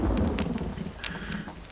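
Rain falling steadily as a sound effect in a narrated horror story, a soft broad hiss with scattered patters and a faint low rumble, continuous and moderately quiet with no voice over it.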